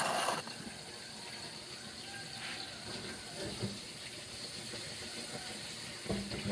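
A steady, loud hiss and crackle of fish frying in hot oil in a pan, continuous and close, with faint clatters now and then.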